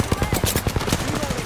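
Rapid automatic gunfire in the Apex Legends video game, a close, loud burst of evenly spaced shots lasting over a second, with brief speech mixed in.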